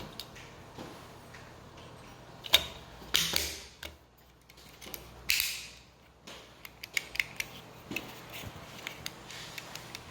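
Plastic clicks and creaks of a 2007-2014 Silverado window switch being pressed and snapped back together after its board contacts were scraped clean, a few scattered close snaps and rattles over quiet room tone.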